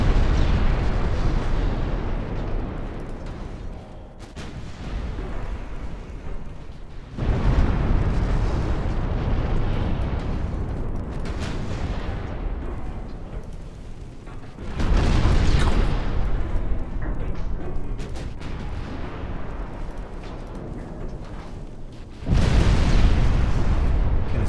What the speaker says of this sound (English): Standing up very well to these 13-inch guns.